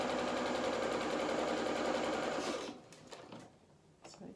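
A sewing machine stitches the front panel of a Chalk and Notch Marcel dress in a steady, loud whirring run that stops abruptly, leaving a few faint clicks and fabric rustles.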